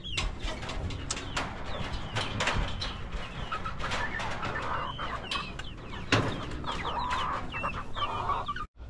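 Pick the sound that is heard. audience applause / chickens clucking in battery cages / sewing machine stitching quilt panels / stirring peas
chickens clucking in battery cages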